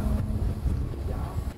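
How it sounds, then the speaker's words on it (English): Strong wind buffets an outdoor microphone in Svalbard, a steady roaring rumble with gusty surges throughout and no voices. "Ja, it's very windy right now."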